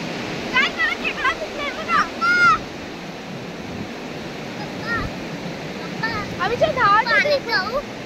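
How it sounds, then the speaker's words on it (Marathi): Forceful sea waves at Ratnagiri churn in a constant rushing roar, with people talking and calling out excitedly over the surf. "किती फोर्सला पाणी आहे बघ"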